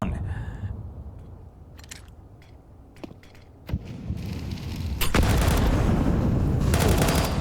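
A grenade detonates in a Counter-Strike esports match, a sharp burst that is followed by a dense, loud wash of gunfire and game noise building over several seconds, with a faint voice underneath.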